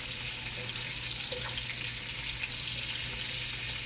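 Breakfast sausage fries in a pan with a continuous, even, fairly faint sizzle and a low steady hum behind it. No voices and no distinct stirring strokes.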